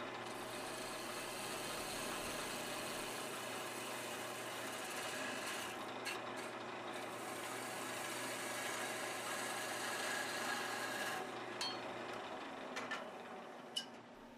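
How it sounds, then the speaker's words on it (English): A wood lathe spins end-grain spindle work while a skew chisel takes a peeling cut, giving a continuous close scraping rasp over a motor hum that cuts off near the end. "Now this will be a peeling cut with a skew chisel."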